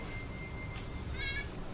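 A short, high cat meow rises over a low rumbling background, close by and clear but brief.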